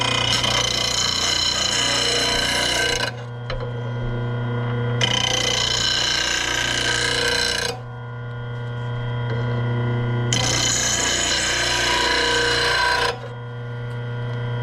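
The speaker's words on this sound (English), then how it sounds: "rest your blade on this metal and go down and then just slide backwards" A blade being sharpened by sliding it lightly backwards along a metal rest, heard as three long steady rasping strokes separated by short pauses over a constant mains hum, loud and close.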